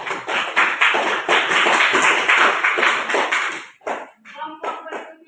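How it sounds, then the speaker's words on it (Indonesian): Classroom applause for a student group, dense clapping from many hands for about four seconds, then fading into a few scattered claps and some talk. "Mari kita berikan tepuk tangan untuk kelompok 1."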